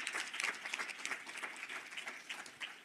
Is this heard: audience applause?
yes